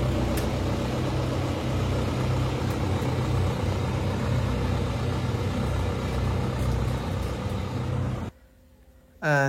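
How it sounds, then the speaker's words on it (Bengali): A new truck with a 1115 engine pulls out for delivery, its engine rumbling steadily and close for about eight seconds before cutting off abruptly into near quiet. "তো এটা এখন বেরিয়ে যাচ্ছে গাড়িটা"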